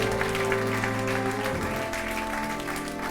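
A congregation at a French-language evangelical church service applauds in a dense, continuous clatter of many hands, steady and fairly loud, over a sustained musical tone that shifts partway through.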